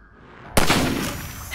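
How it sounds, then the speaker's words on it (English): A single sharp rifle shot in Half-Life 2, fired at a ladder latch, loud and close, cracking suddenly out of near silence and trailing off in a short echoing decay. "Let me shoot out the latch. I might be a little rusty with this rifle."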